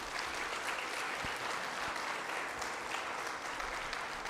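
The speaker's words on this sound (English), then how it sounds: "I request everyone to please thank sir with a huge round of applause." A memorial lecture audience claps in a sustained, even round of applause, a close and steady wash of many hands without pause.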